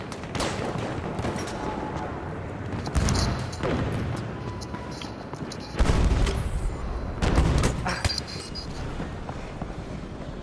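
Dense bursts of Battlefield 1 gunfire rattle continuously, with louder volleys and explosive booms swelling now and then over a busy battlefield din.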